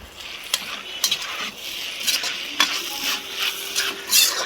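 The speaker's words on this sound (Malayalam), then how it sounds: "ഇടയ്ക്ക് ഒന്ന് തുറന്നിട്ട് നമുക്കൊന്ന് ഇളക്കി കൊടുക്കാം." A spoon stirs pork and koorka (Chinese potato) curry with onions in a pan, with steady scraping and light sizzling, close and continuous, with a few sharper clinks against the pan and no talking.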